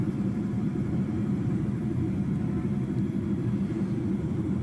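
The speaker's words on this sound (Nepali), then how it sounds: "जहाजले चाहिँ बिस्तारै आफ्नो उचाइ चाहिँ कम गर्दै जमिनतर्फ झर्दैछ।" A passenger airplane descending to land at Riyadh gives a steady, loud low engine roar and cabin rumble, unbroken and with no talking.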